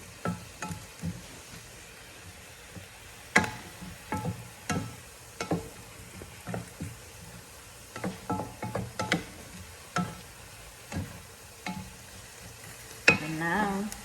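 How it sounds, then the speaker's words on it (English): Vegetables and mushrooms frying in a pan, with a steady soft sizzle broken by repeated clinks and scrapes of stirring, close and unaccompanied by talk. "And then do fry just about 2 minutes, or I think it's max 2 minutes."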